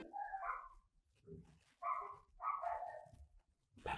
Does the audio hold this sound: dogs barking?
yes